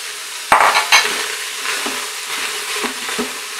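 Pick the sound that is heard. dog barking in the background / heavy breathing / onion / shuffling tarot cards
onion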